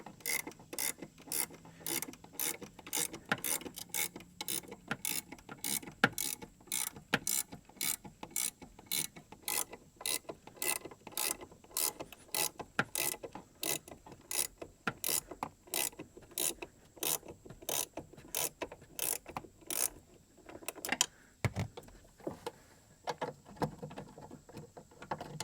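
A spring compressor is worked on a GM OBS Chevy/GMC truck's front door check link, giving a steady series of sharp ratcheting clicks, about one per second, close up and without talk.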